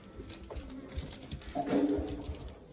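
A pet pigeon or dove cooing indoors, a soft low burst of coos close by after a quieter stretch, with household noise around it.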